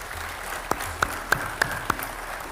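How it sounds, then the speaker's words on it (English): Five sharp, evenly spaced hand claps ring out one after another in a slow, deliberate rhythm over a faint room hum, as a round of applause begins at a formal gathering. "giving them a very handsome round of applause"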